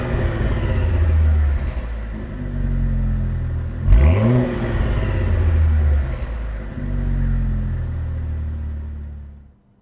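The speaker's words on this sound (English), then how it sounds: "it has a couple of big turbochargers. But let's see what that sounds like with this engine" A 2017 Cadillac ATS-V Coupe twin-turbo V6 engine revs repeatedly, rising sharply in pitch with a growling roar before falling back to a low rumble, close and loud.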